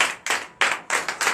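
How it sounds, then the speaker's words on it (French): A church congregation clapping in acclamation during a Sunday service in Benin, four or five loud rhythmic bursts of clapping in quick succession, each decaying before the next. "donnez de vive acclamation à l'Éternel"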